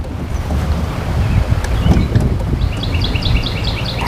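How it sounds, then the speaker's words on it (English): Gusty wind sweeps across a river where someone is fishing, buffeting the microphone with a steady rushing roar, while a few faint bird chirps repeat toward the end. "Wind is really swirling through here right now."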